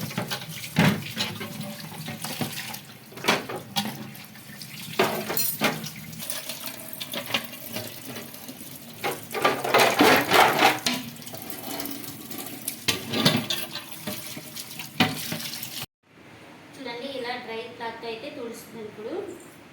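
Tap water runs into a sink while refrigerator parts are rinsed and cleaned, a splashing flow that rises and falls with handling noises, then cuts off before a quieter stretch with a voice talking.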